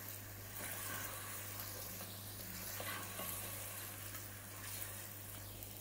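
Mutton sizzling and frying in a pan while being stirred with a spoon, a steady close hiss with soft scraping, no talking.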